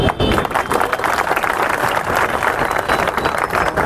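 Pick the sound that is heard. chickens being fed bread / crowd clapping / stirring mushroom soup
crowd clapping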